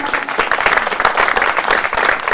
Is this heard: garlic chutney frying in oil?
no